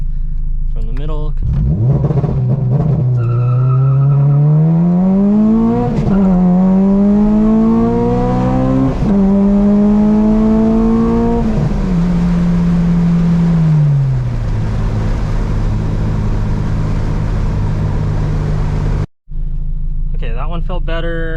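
An Acura RSX Type S accelerates hard from a stop in a 0-60 test, the engine note climbing through several gear changes before settling into a steady drone, heard loud from inside the car and ending in a sudden brief cutoff.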